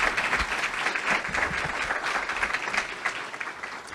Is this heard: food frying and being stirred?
no